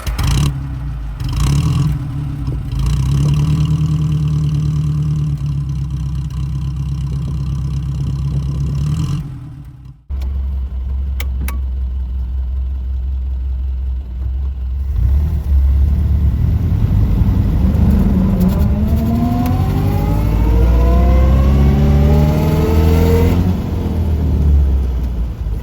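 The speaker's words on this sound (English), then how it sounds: "I wanted to give you a good earful of that engine" A 1930s Singer Junior car engine runs loud and close, idling in a steady rumble, cutting out briefly, then restarting and revving up through rising, clattery sweeps.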